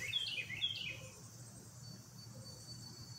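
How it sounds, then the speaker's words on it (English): Birds chirp outside in a backyard, a few brief high calls near the start over a faint, steady background hum, fading after the first second or so. "You hear those birds out there chirping?"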